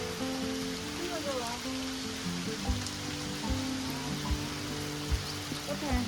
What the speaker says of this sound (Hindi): बारिश कम होने का ही नाम नहीं ले रही है